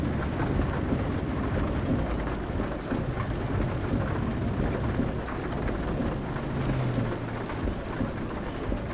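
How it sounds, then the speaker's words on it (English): Rain falls in Euro Truck Simulator 2 while the truck drives, a dense, steady wash of rainfall with a low rumbling undertone, continuous and fairly loud throughout with no voices. "I love the way like it stops raining when you go under a bridge."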